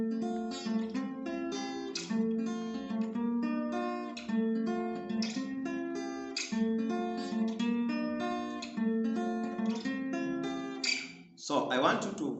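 Acoustic guitar plays an African rhythm chord progression in F, with choppy, syncopated strummed chords repeating in a steady groove, loud and close, ending with a brief scrape.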